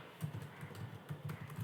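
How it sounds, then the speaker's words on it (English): Fingers type on a computer keyboard in a quick, uneven run of close, light keystroke clicks, with no talking. "I will be typing in milestone tracker"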